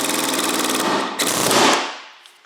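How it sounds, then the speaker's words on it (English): Pneumatic air hammer pounding on a suspension bushing sleeve during a Subaru rear wheel bearing job, a loud rapid rattling burst that pauses briefly, resumes harder, then winds down to quiet. "Ah, broke my dang air hammer bit."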